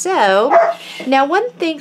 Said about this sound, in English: sorry about the dogs, they're playing right now.